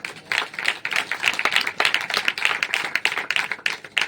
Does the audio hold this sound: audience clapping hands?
yes